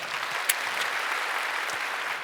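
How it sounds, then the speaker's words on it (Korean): A church congregation at a Sunday service claps steadily for newly baptized members, a moderate, even wash of applause from a large room with one sharper clap standing out early. "우리 인사하실 때 박수로 축복해 주시길 바랍니다."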